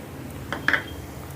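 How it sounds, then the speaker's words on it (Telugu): A spoon stirring cabbage curry with dry coconut powder in a metal pan, a few light clinks and scrapes close by against a quiet background, with no talk. "దీన్ని కూడా బాగా కలిపేసుకుందాం"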